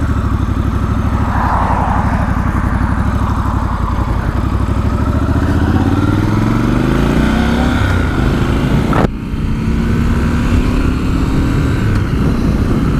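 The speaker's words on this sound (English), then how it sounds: "Sounds absolutely awesome, that exhaust. I love it." A 2019 Triumph Scrambler 1200 XC motorcycle exhaust rumbling loudly up close, the engine revving and climbing in pitch, with a brief dip and a fresh climb partway through.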